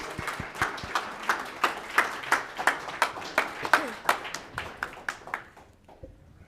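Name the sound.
audience applause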